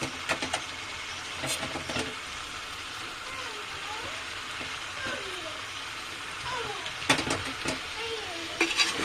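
Potato pieces sautéing in a pan for vegetable khichuri give a steady frying hiss with spatula scrapes and a few sharper clatters, while a voice sounds faintly in the background.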